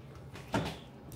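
A drawer in a hotel room at a resort in Hurghada, Egypt, is opened or closed with a single short, soft wooden knock in a quiet room.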